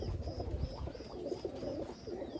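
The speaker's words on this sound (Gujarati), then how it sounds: "મિત્રો જો અંદર કબૂતર આવી ગયા છે અમુક ઉપર બેસી ગયા છે અમુક હજી ઉતરે છે" Pigeons coo softly as they land and settle at a loft, repeated low rolling coos overlapping at moderate distance with faint rustling behind them.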